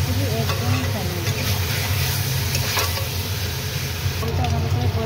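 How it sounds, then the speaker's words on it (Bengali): Chicken pieces frying in a pan for a kosa curry, a steady loud sizzle with scraping stirring strokes throughout, close to the microphone. "এদিকে আমি মাংসটা ভাজতেই থাকবো।"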